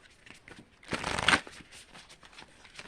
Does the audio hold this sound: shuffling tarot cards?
yes